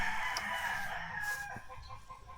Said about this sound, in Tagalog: Putak na putak eh.